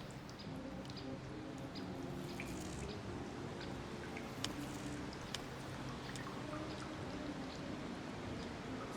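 Water flowing through connected pipes in the building game Parking World: a steady, soft streaming trickle with occasional faint drips, continuous and fairly quiet throughout.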